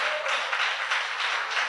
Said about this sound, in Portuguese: Diga amém e aplauda ao Senhor.